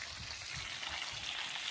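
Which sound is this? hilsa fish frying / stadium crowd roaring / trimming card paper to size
hilsa fish frying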